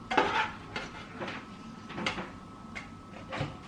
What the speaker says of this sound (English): So I was plating up the pups' dinner.